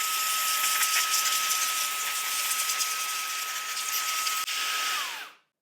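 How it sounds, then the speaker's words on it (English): An air blower cleans a Passap knitting machine with a loud, continuous close-up rush of air and a faint steady tone, then cuts off abruptly near the end. "Now let's use the blower again."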